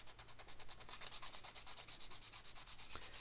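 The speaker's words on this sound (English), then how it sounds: "this PC blend material just sands really nicely with about 240" Sandpaper of 240 grit rubs back and forth over a PC blend plastic part for a 3D-printed RC car replica, giving a quick, even rhythm of about a dozen close, raspy strokes with no talk.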